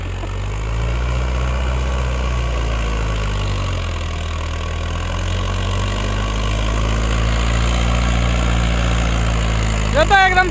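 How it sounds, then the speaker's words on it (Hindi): A tractor engine idles steadily while warming up on a cold day on a farm, a loud continuous low rumble throughout, with a brief burst of higher mechanical rattling near the end. "अभी भैया ट्रैक्टर को गर्मा रहे थोड़ी ठंड ज्यादा"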